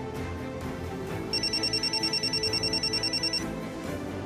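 A telephone rings in a domestic room, a steady run of bright electronic trills lasting about two seconds over low room hum, fairly clear and close.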